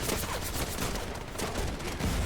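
Rapid gunfire from the animal-themed shooter game Wild Assault, a dense, continuous burst of shots filling the whole stretch at steady loudness with no talk over it.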